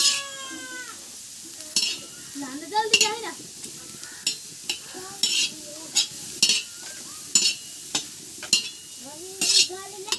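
Onions fry in a little oil in a pan with a soft sizzle under repeated sharp stirring scrapes, while a cat meows several times close by.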